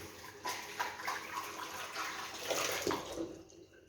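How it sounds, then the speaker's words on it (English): Running water rinses the cover of a juicer used for making orange juice, a steady splashing flow that holds close and fairly even throughout, swelling slightly midway with no voices. "The cover also, I make sure I rinse it."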